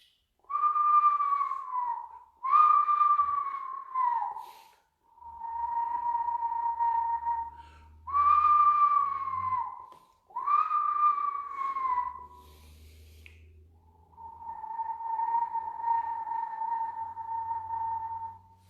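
A person whistles an imitation of an eastern screech owl call: six sustained, slightly wavering tones, each a few seconds long, with short pauses between them.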